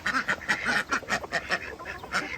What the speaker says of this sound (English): So I got seven ducks,